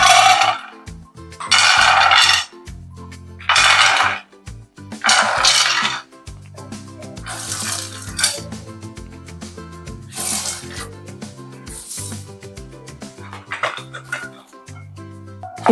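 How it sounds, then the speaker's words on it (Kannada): Dry fruits tossed into a hot pan one at a time for a thandai summer drink, giving several loud, brief rattling clatters with quieter scraping and rubbing in between, close and alone with no talk. "ಈಗ ಪ್ಯಾನ್ ಬಿಸಿ ಆಗಿದೆ, ಒಂದೊಂದಾಗಿ ನಾನು ಡ್ರೈ ಫ್ರೂಟ್ಸ್ ನ ಸೇರಿಸ್ತೀನಿ."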